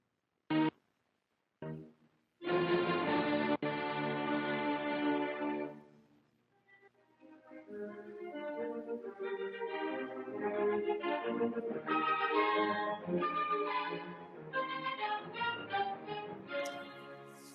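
Orchestral Beethoven symphony music starting with a few sharp chords and pauses, then a sustained string-led passage building into a fuller, flowing symphonic texture.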